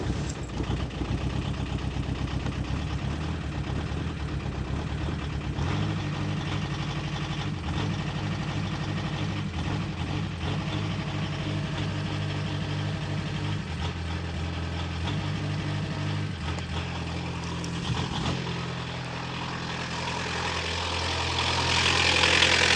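A diesel engine in a MK2 Golf GTD idles steadily and close by for over twenty seconds, a constant low rumble with a slight swell in loudness toward the end.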